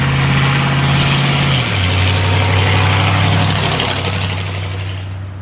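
A Divco milk truck fitted with a Ford V8 engine rumbles up close, its deep, loud exhaust burbling steadily as the pitch shifts and the engine keeps running, then fades slightly as it pulls in, with no voices.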